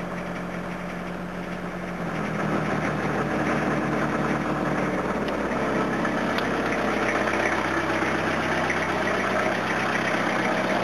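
An engine runs slightly rough, misfiring a little and overfueling, with a steady idle rumble that steps up in level after a couple of seconds and then holds constant, close and alone.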